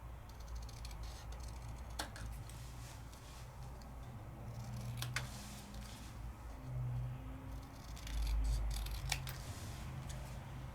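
Scissors trim a paper craft piece, making a few faint, sparse snips spaced apart against a quiet, steady background.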